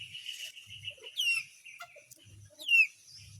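Chicks and chickens clucking and cheeping close by, with two sharp rising calls standing out over soft peeping and low clucks.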